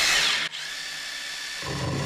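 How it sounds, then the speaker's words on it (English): A power drill fitted with a diamond bit bores through porcelain tile, giving a loud, close, steady whine that dips briefly, then continues grinding with added low rumble near the end. "these diamond drill bits definitely seem the most effective for drilling through the tile the quickest"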